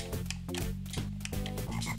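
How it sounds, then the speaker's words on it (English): Frogs croak in the background of The Lion King on the Sega Genesis, a repeating pulsing croak under looping game music, steady and fairly loud throughout with no talk. "These frogs in the background are just making me nervous."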